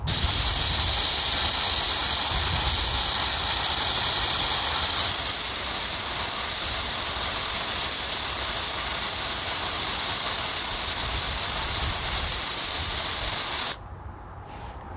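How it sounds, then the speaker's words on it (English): Loud, continuous hiss of a Harbor Freight steam cleaner spraying, steady for many seconds before cutting off abruptly near the end. "you want that continuous spray to keep you going"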